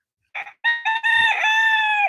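A rooster belts out a loud, close cock-a-doodle-doo, opening with short clucking bursts and then drawing out a long, clear crow that fades at the end, with no other sound behind it.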